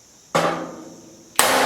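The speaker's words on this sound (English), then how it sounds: "Now you put a big prick punch mark" Two sharp metallic hammer blows on a prick punch set into metal, each a crisp loud strike with a short ringing decay, about a second apart, in a quiet workshop.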